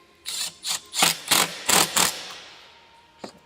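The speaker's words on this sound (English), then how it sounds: "Tighten up both clamps on the intake boot." Intake boot clamps on a 3.6 V6 Pentastar engine being tightened with a screwdriver, six quick ratcheting clicks in a row followed by a single fainter click, close and loud with no talk.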